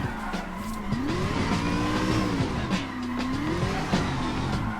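A car in a drifting video game held in a long power slide, its engine droning and rising and falling in pitch while the tires squeal steadily. The sound is loud and unbroken throughout.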